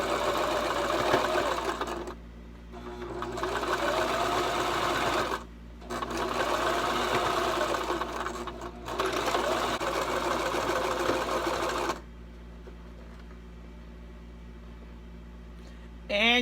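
Brother LS2400 domestic sewing machine stitching a swimsuit coverup, running in steady whirring bursts with short pauses between runs, then stopping and leaving quiet room tone.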